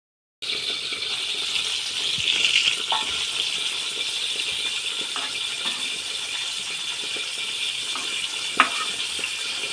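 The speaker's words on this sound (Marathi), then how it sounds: "आता झाकण ठेवून आपण मंद आचेवरती ह्या मिरच्या सर्व बाजूने भाजून घेणार आहोत व्यवस्थित" Green chillies roasting in a covered pan over a low flame, a steady soft sizzling hiss throughout with an occasional faint pop or tap.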